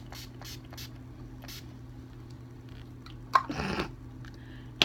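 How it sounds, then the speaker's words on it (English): Urban Decay All Nighter setting spray misted onto a face, a single short hissing burst in a quiet room, followed by a faint click. "set my face with the Urban Decay All Nighter Spray"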